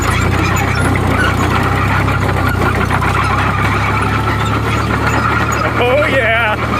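Loud, close diesel engine of a JI Case 310D crawler running under throttle, a constant low rumble with a rising squealing whine near the end.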